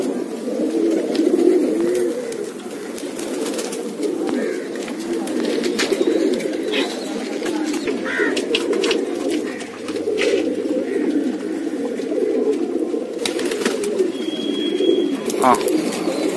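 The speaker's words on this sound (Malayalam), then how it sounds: "ഇപ്പൊ ശരത്ത് കാണിച്ചിരുന്ന രണ്ട് പ്രാവ് നമ്മുടെ മറ്റേന്റെ കുഞ്ഞുങ്ങളാണ്." Pigeons coo steadily throughout, low rolling calls repeating close by in a breeding loft of flying pigeons, with occasional higher bird chirps over a busy background.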